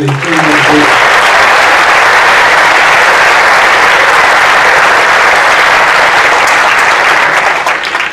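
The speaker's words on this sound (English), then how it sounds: "If you please give them another round of applause." Loud, sustained applause from a large audience at a high school fall sports awards, thick continuous clapping filling the whole stretch; a voice briefly at the very start.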